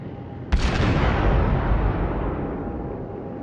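Naval artillery in the World of Warships game, a Fuso battleship firing a single heavy, close salvo that booms sharply and then rolls away into a long, slowly fading rumble.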